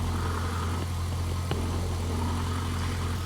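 The drive belt tensioner on a running engine is picked up through a contact microphone, giving a steady close mechanical hum with a single faint click partway through.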